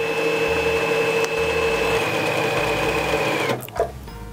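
A Baby Lock Sashiko sewing machine stitches with a steady, loud, close mechanical whir and rhythmic motor hum for several seconds, then stops abruptly, followed by a brief clunk.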